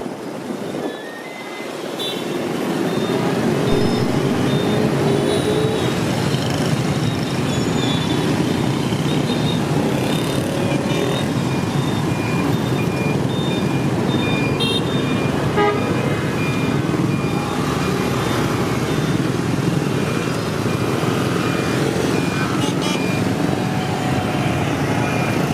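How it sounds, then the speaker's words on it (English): Dense Saigon street traffic roars steadily up close, a thick unbroken wash of motorbike engines with scattered horn toots layered over the top throughout. "The surge, the flow of Saigon traffic."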